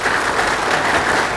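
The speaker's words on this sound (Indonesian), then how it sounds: "Tepuk tangan yang meriah." Audience applause, a loud dense burst of clapping from a crowd, steady throughout.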